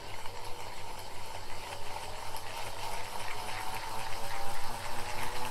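A power ball forearm trainer spinning fast gives off a continuous whirring hum that swells and pulses slightly as the rotor speeds up, close and fairly quiet.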